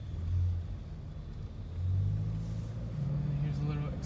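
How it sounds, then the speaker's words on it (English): Engine rumble from a 2016 Subaru Impreza 2.0i Limited with paddle shifters, heard from inside the car as a low steady drone that swells and dips slightly with revs. "Has a nice rumble to the engine."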